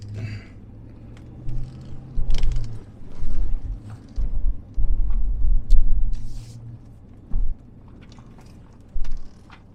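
Big truck rolling slowly across a narrow old bridge, deep low rumbles and clunks rising and falling in irregular bursts, with scattered rattles and thumps between quieter stretches.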